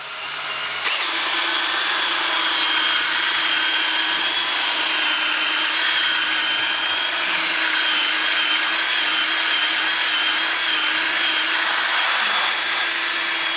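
Power drill running steadily at slow speed while spreading detailing product on a car, a continuous even whine after a brief start, close and loud with no talk.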